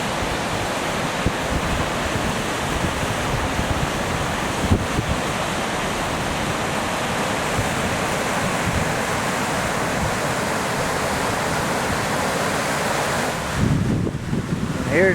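Water pours down from a man-made sluice, a continuous loud, broadband rushing roar mixed with wind buffeting the microphone, steady from start to finish with no voices.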